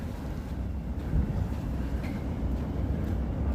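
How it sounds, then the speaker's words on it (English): A CTA Red Line train rumbles steadily along the elevated tracks in Chicago, moving slowly. Its low, continuous roar holds for the whole stretch with no pauses and no voices. "There's the red line train, CTA train on the elevated tracks here in Chicago."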